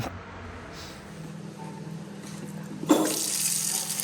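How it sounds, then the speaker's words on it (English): Hot water is poured during a hike across the Pyrenees mountains: quiet outdoor background gives way to a sudden splashing pour near the end that continues steadily. "Hot water."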